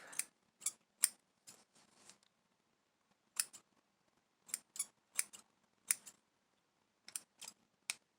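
Scissors snip loose strings off woven fabric, about a dozen short, crisp cuts close to the mic, coming in small clusters with quiet gaps between them.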